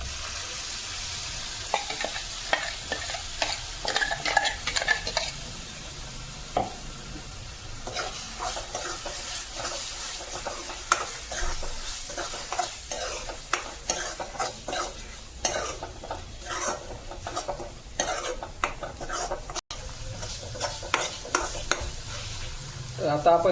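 Ground masala paste stirred into roasted onions in a hot pan for a makul squid dish, with a steady sizzle under repeated scraping, stirring strokes, close and continuous, with no talking.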